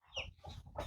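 Farm chickens on a Lao farm, including a breeding hen among ducks, give a few quick, close clucks in under a second.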